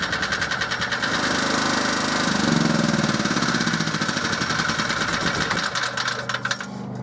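A small generator engine idling roughly, with a close, steady rapid chugging and knocking pulse that wavers slightly before easing off near the end.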